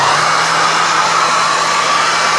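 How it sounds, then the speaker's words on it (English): A hairdryer blows on a wet watercolor painting of a pear, making a loud, steady, close rushing hum with a faint low tone that cuts off abruptly at the end. "I'm going to pull out the hairdryer and just dry this so that I can continue to work on it."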